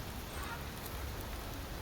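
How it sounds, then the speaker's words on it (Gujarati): First rain of the season falling outdoors: a dense, steady hiss of raindrops hitting surfaces all around, even and fairly loud, with no voices. "અને વરસાદ આવી ગયો."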